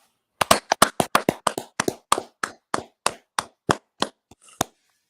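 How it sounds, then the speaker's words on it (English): Sharp, close claps end a class. They come as a string of about eighteen separate claps, quick at first, then spacing out and trailing off into silence, with no talking. "Hey, let's clap it up."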